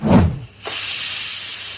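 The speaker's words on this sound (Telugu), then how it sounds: "కుక్కర్ 3 విజిల్స్ వచ్చింది, ప్రెషర్ అంతా పోయిందండి." A pressure cooker holding cashew and keema curry, after three whistles, releases its steam as a steady, fairly loud hiss following a short clunk.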